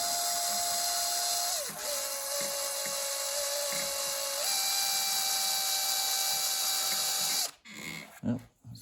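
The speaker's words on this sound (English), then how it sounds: "And I'm going to hit one of these little seams here and drill me a hole." A high-pitched drill whines steadily for several seconds, drilling a hole in a Craftsman lawn tractor's crankshaft oil seal, its pitch dipping as it bites, then cuts out into a few quiet knocks.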